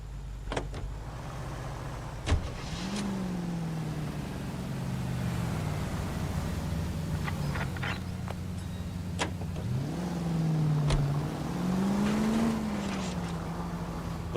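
Car engine in the video game L.A. Noire, a steady drone that rises and falls as it shifts through gears, with a few sharp clicks and no talking.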